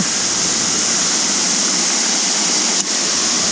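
Ermayi Falls pours in a loud, steady, close roar of falling water that stays unbroken throughout.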